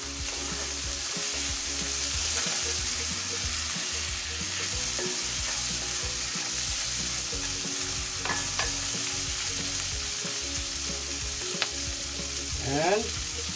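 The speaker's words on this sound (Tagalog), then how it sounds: "hayaan po natin siyang maprito ng todo" Hotdog pieces frying in a pan and stirred, a steady sizzle with scraping and clinking of the utensil throughout, close and continuous with no talking.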